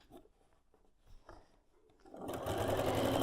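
A sewing machine runs a seam across a bowtie quilt block. It starts with soft, scattered clicks and handling noises, then settles into a loud, steady whirring stitch for the last second.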